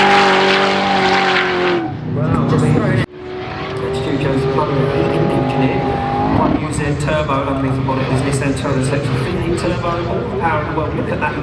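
Stu Jones's drift car slides at a big angle and smokes its tyres at a British Drift Championship round at Three Sisters circuit, a loud sustained engine roar with rising revs and tyre noise, heard under steady commentary.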